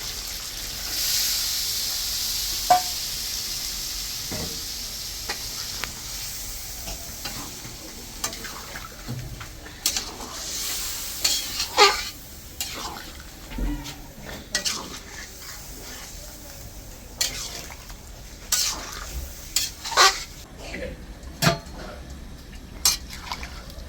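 Chicken curry with potatoes and water simmering in a pan, a soft bubbling sizzle under repeated close clinks and scrapes of a spoon stirring against the metal, with no talking.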